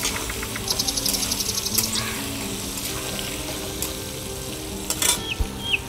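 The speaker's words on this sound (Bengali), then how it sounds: "আলুটা লাল করে ভেজে নেব।" Potatoes seasoned with turmeric and salt fry in hot oil for chicken kosa, giving a steady sizzle with scattered crackles, a few utensil clinks and one louder scrape toward the end.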